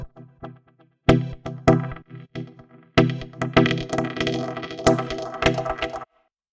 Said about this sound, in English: we also have a new synth playing, which sounds like this.